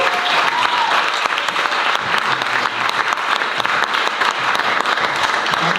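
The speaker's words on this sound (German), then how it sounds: "Applaus für Ottmar bitte." An audience at a special event gives a speaker steady applause, dense sustained clapping from a crowd that holds at an even, loud level throughout.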